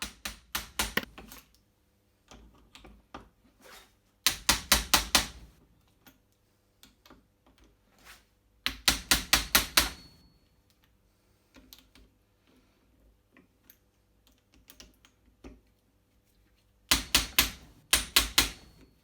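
An impact driver hammers at a BSA M33 gearbox sprocket in several separate bursts of rapid, rattling blows with quiet gaps between them. A few lighter ticks fall in the pauses.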